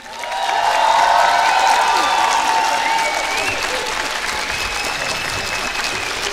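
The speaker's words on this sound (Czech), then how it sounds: "velký potlesk pro všechny soutěžící." An audience at the Animefest 2023 dance contest applauds all the contestants with a full, sustained wash of clapping, and some cheering and faint voices are carried along in it.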